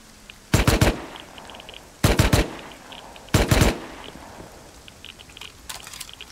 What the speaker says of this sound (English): What are you shooting at?